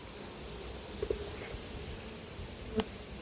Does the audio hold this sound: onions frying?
no